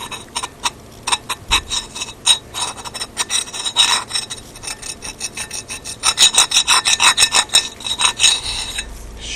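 A screwdriver scrapes and rasps inside a damaged Emotator 1103 antenna rotator, giving a series of rhythmic gritty rubbing strokes with faint metallic ticks, close and fairly loud.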